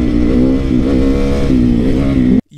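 A mini motorcycle engine revs close by, a loud buzzing drone that rises and falls in pitch before cutting off abruptly near the end.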